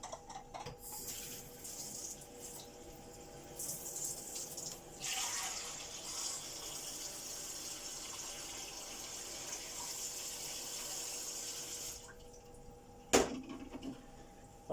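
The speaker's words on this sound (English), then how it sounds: "you're going to run them under some cold water" Cold tap water runs over freshly boiled eggs in a kitchen sink, a steady hiss of gushing water that swells midway, then cuts off, followed by a brief clunk.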